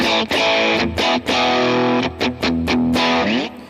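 Electric guitar chords ring out through a Line 6 multi-effects patch, distorted and shimmering with modulation, loud and close with rhythmic strums.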